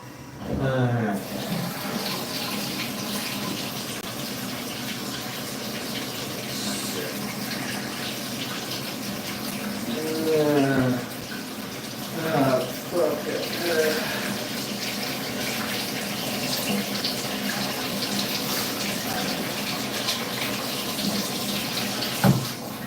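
A shower runs steadily indoors, its spray making a continuous broadband hiss that goes on throughout, with a person's voice briefly heard over it partway through.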